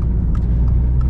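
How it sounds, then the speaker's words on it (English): A 2022 Subaru WRX with a manual gearbox cruises along, its boxer engine and exhaust giving a steady low rumble from inside the car for about a second, with no talking. "You get a little bit of that boxer noise to the way the exhaust and engine sounds"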